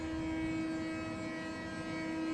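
A locomotive hauls a Talgo passenger train out of Almaty station in Kazakhstan, making a steady droning engine hum with a sustained tonal whine that holds constant throughout.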